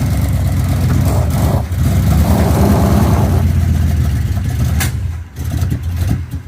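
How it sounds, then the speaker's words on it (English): A 1972 Chevelle's engine runs loud and close as the car backs off a lift, rumbling and revving unevenly before briefly dipping and picking up again. "First time that car's moved under its own power in probably 21 years."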